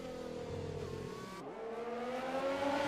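Engine roar of a Formula-style race car accelerating in a racing video game at the Austria circuit, a loud continuous whine rising steadily in pitch with harmonic layers, dipping briefly mid-way before climbing again.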